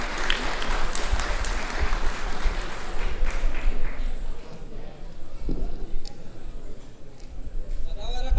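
Audience applause and clapping at an Afghan Independence Day celebration in Melbourne, a steady dense patter filling the room, mixed with crowd noise and voices, fading somewhat toward the end.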